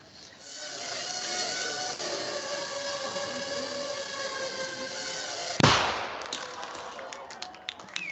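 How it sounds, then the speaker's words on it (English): A small shaped charge of about 3 grams of explosive detonates in one sharp, loud bang partway through, cutting through a steady droning background and leaving a brief decaying tail. "That little bang is enough to penetrate the skull and destroy the contents"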